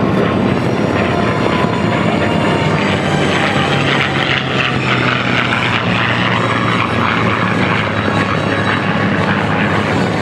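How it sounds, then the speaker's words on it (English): A P-51 Mustang propeller aircraft flies past at an air show, its loud piston engine and propeller producing a continuous, powerful roar that holds steady throughout. "Another beautiful pass from Stan Music in the B-51 Mustang"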